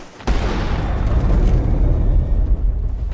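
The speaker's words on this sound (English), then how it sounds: "After the explosion of moonshine" A loud, deep explosion of moonshine bursts suddenly and rumbles on, a heavy low roar that slowly fades.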